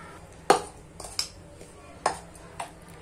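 A spoon stirs a hot besan ladoo mixture, giving about five sharp metallic clinks against the pan at uneven intervals over a quiet background.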